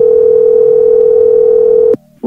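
A telephone dial tone hums loud and steady for about two seconds after a call is hung up, then cuts off into a brief click and silence.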